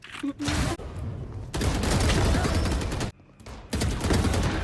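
Rapid bursts of automatic gunfire in a Valorant match, loud and close, broken by short pauses, with a voice briefly speaking over the shooting.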